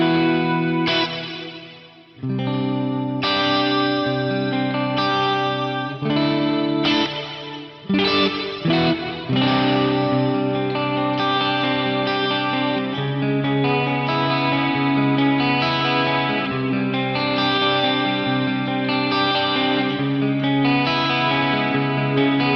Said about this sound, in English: So this one is reverb running into the symphonic effect.